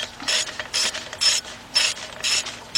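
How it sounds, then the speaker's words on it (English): Hand ratchet clicking in short bursts while tightening thermostat housing bolts on a 2012 Dodge Durango SXT 3.6, six distinct close, crisp ratcheting runs with brief pauses between strokes. "now you just want to use just a regular ratchet"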